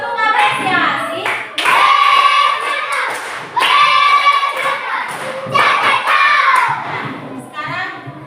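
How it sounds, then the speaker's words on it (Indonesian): Students in a classroom give a round of appreciation clapping, several short bursts of loud, close hand claps in rhythmic patterns, with brief pauses between bursts and some children's voices mixed in. "tepuk apresiasi untuk kalian semua"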